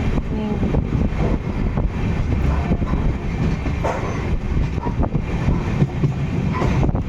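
A steady, loud rumble of a moving long-distance train from inside a carriage, with continuous rattling and faint clacks throughout.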